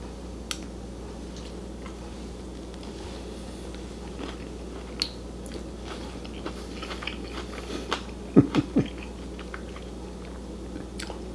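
Someone chews a mouthful of zesty Italian rotini pasta salad with cucumber close to the microphone, giving soft, moist crunches and squishes that grow louder toward the end, where a few sharp bites stand out.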